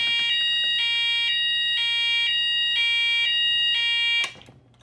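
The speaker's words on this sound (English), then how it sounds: "then we're gonna set all of the fire alarms at once" Several fire alarms set off together in a demonstration, a loud piercing electronic tone pulsing in a regular rhythm about twice per second, close and continuous, then cutting off abruptly near the end.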